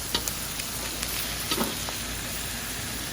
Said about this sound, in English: Add some onions in here.